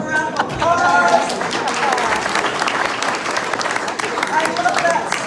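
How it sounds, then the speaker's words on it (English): A town hall audience applauds with dense, sustained clapping from a crowd filling the room, with voices and cheers mixed in under the clapping. "let's give them a round of applause."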